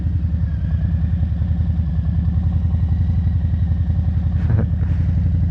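A 2020 Harley-Davidson Low Rider S motorcycle rolling slowly through practice cones, its V-twin giving a steady, loud, lumpy thumping idle-like rhythm close up, with a brief blip near the end.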